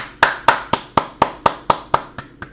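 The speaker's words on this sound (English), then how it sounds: "He's just standing there clapping." One person claps alone in steady, evenly spaced beats, about ten sharp claps close by, with nothing else heard, like a coach standing on the sideline clapping.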